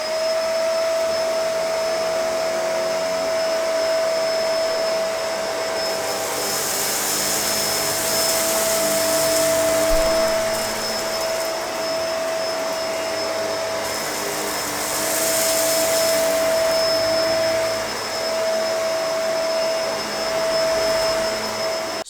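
A Bissell MultiClean Allergen Lift-Off vacuum runs steadily over deep, plush carpet, a loud continuous motor whine with a high steady tone, swelling into brief louder surges as it is pushed back and forth, with no talking.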